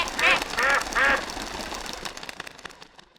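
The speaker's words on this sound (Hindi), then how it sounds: "भाई साहब आपकी बतख तो उड़ गई" A duck quacks three times in quick, loud, nasal bursts close by, then a busy mechanical rattle fades out, with no talking.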